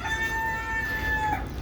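Native chickens in a brooding setup with young chicks make a drawn-out, high, steady call, one long vocal note held for over a second over a low background rumble, fairly close and alone without talk.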